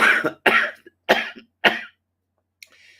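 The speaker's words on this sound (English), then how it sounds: "I'm still having a very bad cough" Four harsh coughs in a row, close and loud, each a short burst, followed by a faint breath or rustle.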